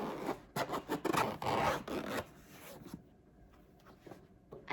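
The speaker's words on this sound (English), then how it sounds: "First we gotta open it with this little zipper." Several quick, close, rasping zipper pulls open a small carrying case for an Oculus Go headset. Faint handling sounds follow as the zipping stops.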